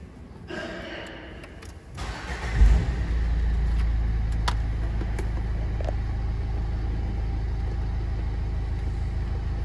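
Renault Clio IV engine cranking and catching after a soft rustle, then settling into a steady, close low idle rumble that runs on alone.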